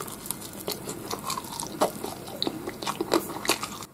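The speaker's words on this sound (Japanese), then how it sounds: "パリパリの音が聞こえるかどうかわかんないですけど" Crisp bites into a pan-grilled miso rice ball with a toasted miso crust and bonito flakes inside, several close crunchy bites and chewing in an irregular rhythm, fairly quiet, with no talking.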